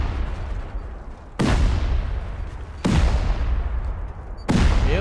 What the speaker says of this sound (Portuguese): vocês já viram explosões assim?